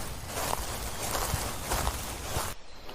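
A young deer moving nearby, its quick light footsteps rustling and thudding in a busy cluster before cutting off abruptly.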